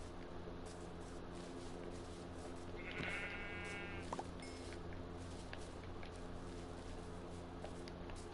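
A single short sheep bleat in the video game Minecraft rises briefly, fairly faint, over a steady low game background hum.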